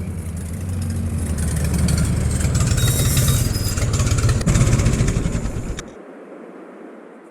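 A tractor engine runs steadily in Farming Simulator 22, a loud low throb with a rough texture that cuts off abruptly near the end, leaving faint hiss.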